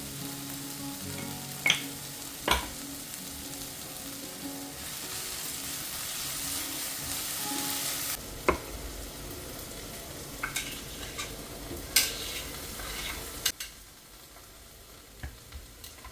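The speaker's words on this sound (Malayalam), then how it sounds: "ഞാൻ ഓണിയനും ജിഞ്ചർ ഗാർലിക് പേസ്റ്റും കൂടി ഒന്ന് സോട്ട് ചെയ്തിട്ടുണ്ട്" Onion and ginger garlic paste sautéing in a pan, a steady moderate sizzle with occasional sharp clicks and scrapes of stirring, all without talk.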